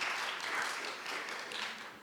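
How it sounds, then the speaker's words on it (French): Audience applause for a speaker at a Victor Hugo conference in Sofia, a soft, even wash of many hands clapping, faint and distant, tapering slightly at the end. "Merci de l'applaudir"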